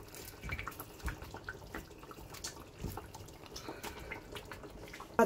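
Pieces of fried dorade fish drop into a pan of boiling broth, giving a close bubbling and spattering with irregular soft splashes and a louder splash at the very end.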